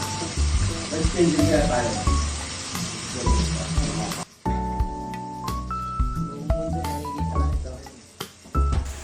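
Chop suey vegetables sizzle in a wok over sautéed onion, tomato and garlic, a steady hiss strongest early on, then continuing under tonal background music with occasional clatters.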